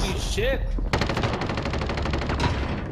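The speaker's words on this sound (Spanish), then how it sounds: "me está matando a puro balazo" Rapid automatic gunfire in Call of Duty: Modern Warfare rattles loudly and continuously, with sharp close bursts over dense game noise and a short tonal effect at the start.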